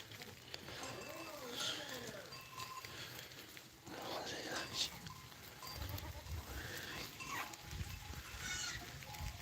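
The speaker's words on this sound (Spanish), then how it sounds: "Esta raza de cabra es de sierra y es de sierra y olvidaros es de campo" Goats of a mountain breed bleating at intervals, several wavering calls near and farther off, mixed with outdoor background noise and some human voices.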